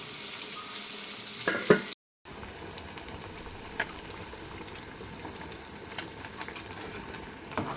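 Oil sizzles and crackles steadily in a pan while frying for a mango fish curry, with a few stirring scrapes and a short gap of silence partway through; no one speaks.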